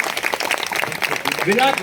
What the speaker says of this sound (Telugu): అందుకు ఇంకొకసారి గట్టిగా వాళ్ళకి చప్పట్లు కొట్టి మనం ఎంకరేజ్ చేద్దాం.